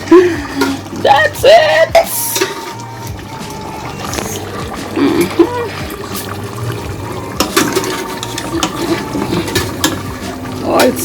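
Water splashes and pours into a cooking pot of broad beans during a Jamaican Sunday dinner, loud, irregular gushes and trickles close by, with a voice speaking briefly over it.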